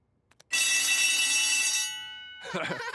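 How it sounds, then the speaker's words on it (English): A school fire alarm in a children's cartoon rings loudly with a bright, steady metallic tone for over a second, then fades away before a short burst of other sound. "So we've heard the alarm."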